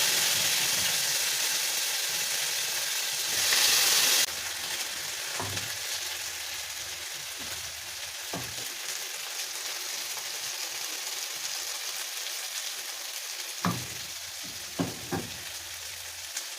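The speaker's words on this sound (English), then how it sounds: "in our pan we're gonna add some more oil like that, and then we're gonna add our potatoes" Potatoes frying in oil in a pan give off a steady, broad sizzle throughout, with a louder hiss near the start and a few brief clinks or pops later on.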